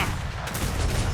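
Ship cannons firing a broadside in a naval roleplay video game, a dense rumbling volley of booms running together, loud and continuous across the moment.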